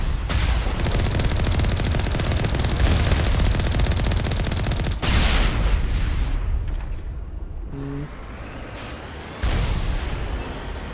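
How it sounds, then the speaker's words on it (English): Automatic turret firing in Mass Effect 1 Legendary, heard during a Mako vehicle fight: dense, continuous rapid gunfire and blasts filling most of the stretch, dropping briefly before resuming loud bursts. "Oh, there's a turret."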